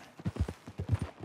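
Hooves of a horse in Red Dead Redemption 2 clip-clop in a quick, uneven walking rhythm, close but fairly soft.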